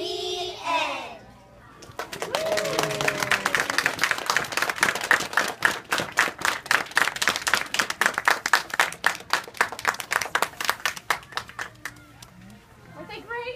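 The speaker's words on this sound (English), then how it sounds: "Let's give them one more round of applause." Clapping from an audience after a class of children performs, with distinct rhythmic individual claps forming a lively burst of applause that runs for about ten seconds, with voices talking before and after it.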